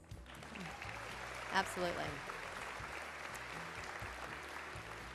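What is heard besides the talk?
audience applause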